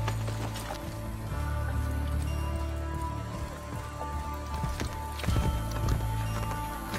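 Steady hoofbeats of a running horse in Assassin's Creed Brotherhood clatter along, continuous and fairly close, with faint background noise.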